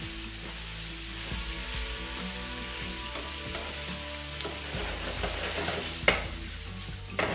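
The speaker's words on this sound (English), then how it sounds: "Get all the flavors down at the bottom. Mix up everything." Chicken is stir-fried in a pan, everything tossed and mixed with steady sizzling and irregular scraping and clanks of a utensil, close and continuous with no talk.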